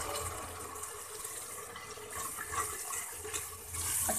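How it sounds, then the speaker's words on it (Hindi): Water splashes into a pan of frying spices for a chicken and potato curry, making a steady rushing sizzle-like hiss that swells slightly toward the end, with no talking over it. "फिर पानी का छींटा लगाएंगे ताकि फ्लेवर इन्हेंस हो जाए"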